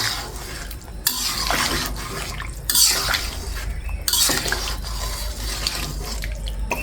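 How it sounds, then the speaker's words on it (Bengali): Hot water poured into a pot of curry with drumsticks, potato and lentil dumplings, then stirred, giving splashing bursts and sloshing swirls in several uneven waves, fairly close. "এখন গরম জলটা দিয়ে দিচ্ছি, দিয়ে একটু নেড়ে ছেড়ে দিচ্ছি।"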